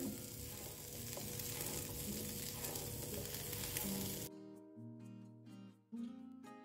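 Chickpeas roasting in a pan with a dense, steady sizzle and stirring, then the frying cuts off and leaves a few close clinks and scrapes, no talking.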